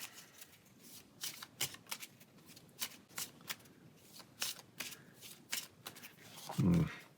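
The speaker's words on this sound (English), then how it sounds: "Pull out a monster and then shuffle that into the tower location" A monster deck of fantasy adventure game cards is shuffled by hand in a series of quick, crisp riffles and snaps, close and fairly quiet, ending with a soft thump.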